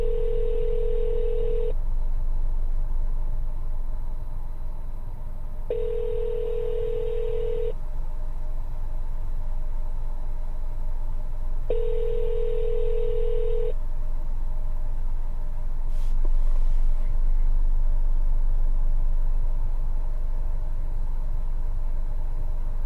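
A phone line plays repeated ringback tones during a callback on a real estate cold call, three evenly spaced two-second tones with silent gaps, heard over a steady low hum from a vehicle engine.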